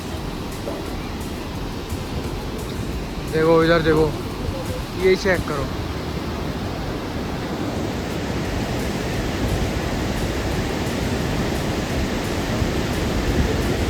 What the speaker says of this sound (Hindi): नीचे पानी देखो कितना तेज फ्लो हो रहा है।